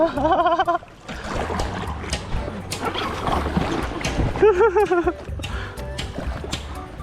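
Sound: stand-up paddle board paddling on flowing Ping river

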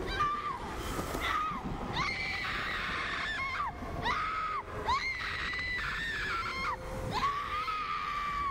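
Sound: Rose screaming in Resident Evil Village Shadow of Rose video game

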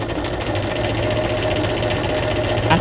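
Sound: sewing machine running

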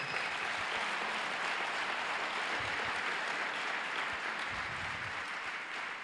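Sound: applause in church

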